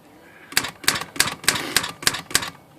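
A Remington Rand KMC Standard typewriter with noiseless action strikes the H key repeatedly, eight crisp evenly spaced clacks about a third of a second apart, close and clear with no talking.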